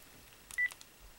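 A baby presses buttons on a work phone, setting off one quick, quiet keypad tone with a few faint clicks around it against near silence.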